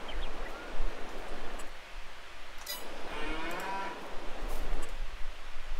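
Holstein cows mooing on a farm in the Farming Simulator 22 video game, several drawn-out moos rising over a steady outdoor ambience, fairly close and clear with no talk.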